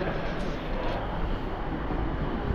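A heritage steam railway train on the Keighley & Worth Valley line, with the engine at the front of its carriages, heard as a steady broad rumble of rolling stock with no talk.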